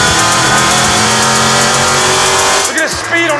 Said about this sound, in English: Look at the speed on that car.